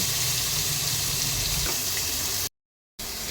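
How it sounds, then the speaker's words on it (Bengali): Prawns fry in hot oil in a pan with onions, a steady close sizzle that runs continuously before a brief sudden dropout, then resumes. "এবার চিংড়ি মাছকে ভেজে নেব"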